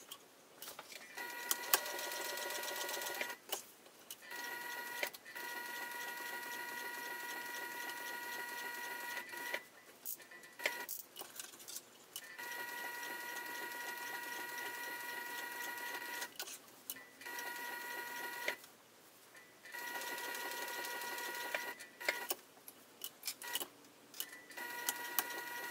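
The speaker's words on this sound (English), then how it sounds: "you're going to baste down this side, top stitch along the bottom, and then baste up this side as well" A sewing machine basting and top-stitching fabric for a wristlet bag, heard as steady mechanical whirring runs that stop briefly several times, close and fairly loud with no talk.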